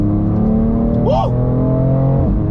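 BMW M4 engine held in manual mode on a motorway entry, a steady loud rev with a quick rising whoop at a gear shift midway, then continuing strong.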